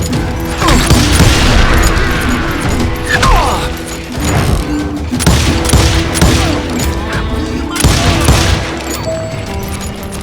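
Sustained bursts of loud, close gunfire with rapid repeated shots and crashing impacts rolling on and off in the Western shooter Call of Juarez: Gunslinger, with mechanical clatter between volleys.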